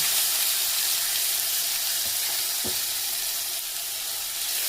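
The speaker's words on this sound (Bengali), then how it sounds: "প্রথমে আমি মশলাটাকে 1 মিনিট মতো ভেজে নেব" Ground turmeric, coriander and cumin fry in oil in a pan with a steady, moderate sizzle. A couple of soft knocks from stirring come partway through. No voices.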